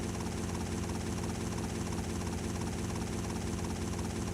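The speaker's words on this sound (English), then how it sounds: "I'm just hearing the constant helicopter blades" Helicopter rotor blades in the video game GTA Vice City Stories, giving a constant, steady low thudding drone with a dense engine hum that stays even and unbroken throughout.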